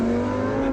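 A fast car's engine drones loud and close in sport mode, a steady strong tone that holds without a clear rise for under a second.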